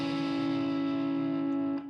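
Distorted electric guitar chord sustained with effects, ringing steadily and loud before cutting off near the end, playing part of a song after a half-step slide back down the neck.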